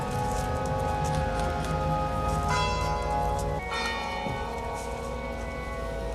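Church bells ring out continuously as a coffin arrives at a funeral, their tones overlapping and lingering, fairly close and clear, with a new strike partway through.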